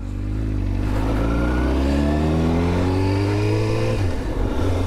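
A Yamaha OW-02 (R7) motorcycle engine revs up steadily, pitch climbing as it pulls away, then drops sharply near the end; loud and close with no talking.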